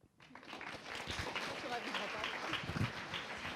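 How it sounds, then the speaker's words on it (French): An audience applauds at a graphic design talk on festivals, a dense wash of many hands clapping steadily for several seconds, mixed with crowd murmur. "On peut les applaudir."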